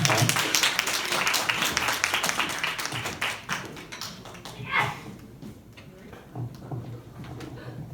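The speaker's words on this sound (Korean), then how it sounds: "우리 박수로 한번 사모님 환영하도록 하겠습니다" A church high-school congregation applauds to welcome a guest speaker, dense clapping from many hands starting strong and then thinning into scattered claps and room noise.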